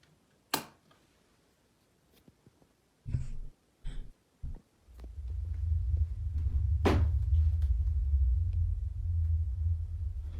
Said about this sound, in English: Those are the tapping noises I was talking about.